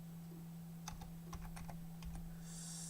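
Someone types a short terminal command for an Angular project on a computer keyboard: a quick run of about a dozen crisp key clicks over a constant low electrical hum, with no talking.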